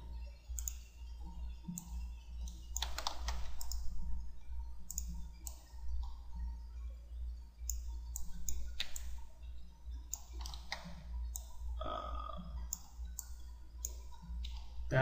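Computer mouse clicks while modelling a minigun in Cinema 4D, scattered sharp single and double clicks at an irregular pace over a steady low hum, with no talking.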